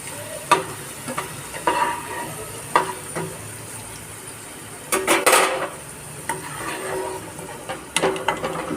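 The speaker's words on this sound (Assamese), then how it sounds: "আলুখিনি প্ৰায় ভাজা হৈ গ'ল।" Cut potatoes fry in a kadai with a steady low sizzle. A spatula taps and scrapes the pan now and then, with a denser clatter of stirring partway through.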